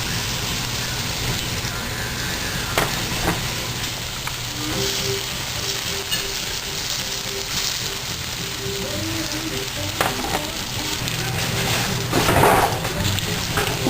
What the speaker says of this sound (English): just throw them into a nice hot frying pan with a little oil until they're golden brown.